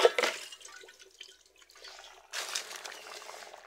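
Tap water splashes while dishes are rinsed in a home kitchen during chicken curry cooking, a close hissing flow that thins out in the middle and then returns strongly.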